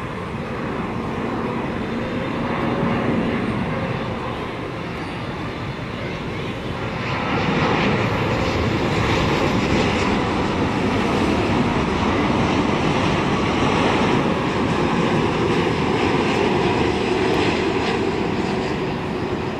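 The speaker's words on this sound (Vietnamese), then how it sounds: "Chiếc máy bay này đang bước vào hạ cánh ở đường băng 25 phải" A Vietnam Airlines Boeing 787 lands on runway 25R, heard as a steady, loud, broad jet roar that swells partway through and holds, distant and without talk.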